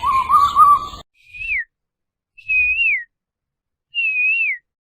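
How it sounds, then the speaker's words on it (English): Three clear, separate whistled calls of a cuckoo ring out alone against silence, each a short rising-then-falling note with long pauses between, following a brief louder warbling passage at the start. "Ah, I know this familiar bird call. It's the cuckoo"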